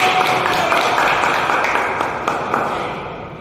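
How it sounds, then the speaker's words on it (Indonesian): Classroom applause for a student in an Indonesian senior high school lesson: a short burst of steady clapping from a group of students, loud and close, tapering off over a few seconds. "Tepuk tangan untuk Tiur."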